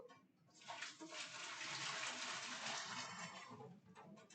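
Water runs from a kitchen tap in a steady, rushing stream for about three seconds while cooking, moderately close, with no talking.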